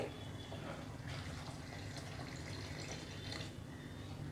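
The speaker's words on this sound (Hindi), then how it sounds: "अब हम इसमें पानी ऐड कर देंगे।" Water poured into a cooking pot of mutton that has been simmering on a low flame for white pulao, a steady soft wash of liquid that stays faint and even throughout.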